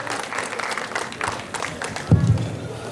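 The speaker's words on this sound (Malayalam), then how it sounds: "ഈ രണ്ടുപേർക്കും ഒരു കയ്യടി എല്ലാവർക്കും" An audience at a Syro Malankara Catholic community gathering in Muscat claps for two event anchors, a dense stretch of steady applause with a voice talking over it.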